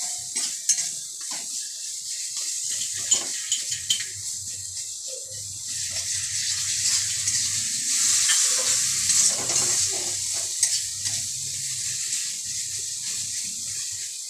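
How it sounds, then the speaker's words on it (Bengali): A little water goes into spice paste frying in oil for a ridge gourd and prawn curry, raising a bright steady hiss that swells midway, with soft clinks and scrapes of a spoon stirring. "সামান্য একটু জল দিলাম মশলাটা কষানোর জন্য। মশলাটা একটু কষানো হবে।"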